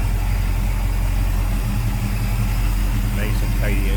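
A 1971 GMC K20 4x4 pickup with a 350 V8 idles smoothly, giving a steady, loud, low rumble that holds evenly throughout.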